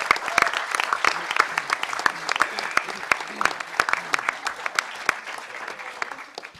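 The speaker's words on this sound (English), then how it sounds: "Give him a huge round of applause." An audience at a hacker conference breaks into loud, sustained applause, dense clapping that fills the room and slowly tapers off.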